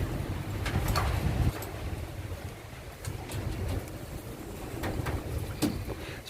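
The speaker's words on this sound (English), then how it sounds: "It's very windy today" Steady gusty wind blows across an open grassy plot where potatoes are being dug, a continuous low rushing roar with surging gusts, close to the microphone and buffeting it.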